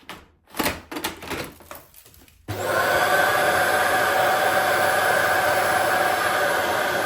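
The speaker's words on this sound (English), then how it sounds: "It vacuums away all the contents into this little bin right here. This is basically another vacuum." A Shark PowerDetect cordless vacuum's emptying station suction kicks in after a few clicks and handling knocks, then roars loudly and steadily as it pulls out the dust bin.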